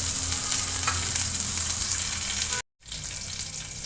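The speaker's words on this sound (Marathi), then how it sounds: "तेल झालेलं आहे गरम अर्धा चमचा मोहरी कढीपत्त्याची पानं बारीक चिरून हिरवी मिरची टाकायची आहे" Mustard seeds, curry leaves and green chilli fry in hot oil in a pan for lemon rice, giving a loud, continuous crackling sizzle. A brief silent gap breaks it before the sizzle resumes, with no talk.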